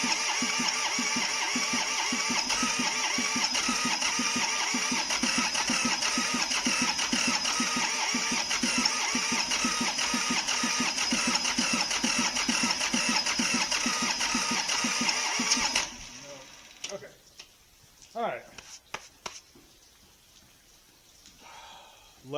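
Cheap John Deere tractor engine cranking over with a steady rapid starter churn for about fifteen seconds, loud and close, then it stops, followed by scattered clunks and faint movement.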